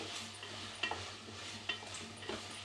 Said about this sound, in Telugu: ఇప్పుడు ఒకసారి కలిపెట్టుకోవాలి